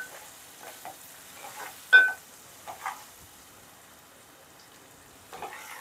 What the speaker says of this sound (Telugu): ఉల్లిపాయ వేగింది కదండి